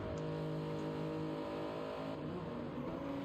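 A smoky gray Toyota GR Supra race car lapping the track during GR Cup qualifying, its engine a steady, sustained mid-pitched drone with strong harmonic tones, moderately loud and unbroken.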